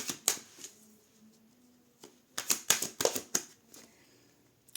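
Tarot cards shuffled by hand in quiet bursts, crisp riffling clicks and flutters clustered early and again near the end, with soft handling noises between and no talking.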